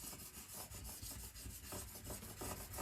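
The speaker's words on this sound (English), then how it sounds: "So give it a good burnish down with a scraper." A scraper burnishes self-adhesive craft vinyl down onto transfer tape in fast, rhythmic rubbing strokes, a close, soft, steady scratching with no voices.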